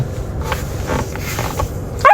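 German Shepherd puppy making low, rumbling growly noises with small whimpering yips, close and fairly loud, ending in a sharper yelp.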